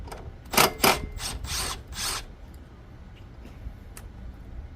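An 11mm nut coming off the main pulley of a Classen TR20-K power rake, heard as a few quick close ratcheting bursts from a hand tool, then quieter clicks and shop background.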